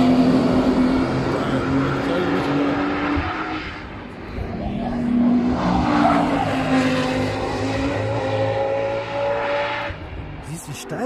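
Race cars on the Nürburgring Nordschleife during a 2022 NLS race near Breidscheid, engines droning steadily as they pass at a distance with rising and falling pitch, while people talk nearby.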